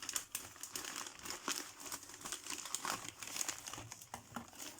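Wrapping paper crinkles and rustles continuously as a well-wrapped gift box is unwrapped, close and soft, with irregular bursts of crumpling.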